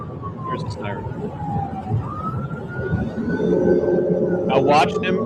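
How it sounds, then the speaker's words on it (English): Police car siren on a state trooper's cruiser driving past other traffic, a steady wailing tone that rises and holds over road noise, with someone talking across it. "Here's his siren."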